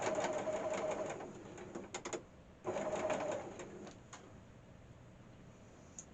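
A sewing machine stitches along the edge of a drawstring bag in two quiet whirring runs separated by a short pause, followed by faint clicks and near silence.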